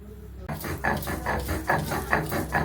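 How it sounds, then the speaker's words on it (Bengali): Garlic, ginger and raw turmeric are ground by hand on a shil-nora grinding stone. After a quiet start, close rhythmic scraping strokes repeat at an even pace. "এবার আমি শিলনাতে রসুন বেশি পরিমাণে রসুন আদাটা আর কাঁচা হলুদ বেটে নেব"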